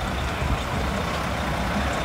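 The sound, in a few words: tractor trailer hauling Georgia Bulldogs football equipment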